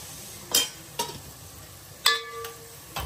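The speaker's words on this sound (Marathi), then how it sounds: "तर कमी गॅसवर तुम्ही जरा मसाला ऍड करून त्याला थोडं हलवावं लागेल तुम्हाला।" A spoon or spatula stirs masala in hot oil over a low flame for black-masala mutton, making four sharp scraping taps against the pan over a faint background hiss.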